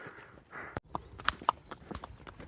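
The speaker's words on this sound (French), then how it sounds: "Des chevaux avec leurs poulains." Horses with foals walk along a forest trail near mules, hooves clip-clopping in a loose, uneven rhythm at moderate distance, with faint rustling and breathing around them.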